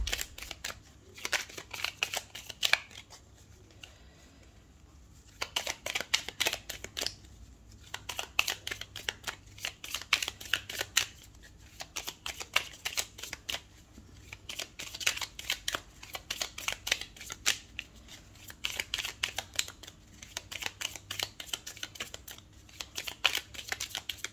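Tarot cards being shuffled close up, with rapid papery riffles and slaps in repeated bursts separated by short pauses, steady and fairly loud throughout with no talking.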